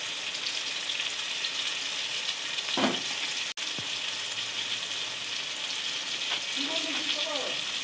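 Spices frying in hot oil make a steady, soft background sizzle that runs throughout. A few brief stirring scrapes and clinks sound nearby.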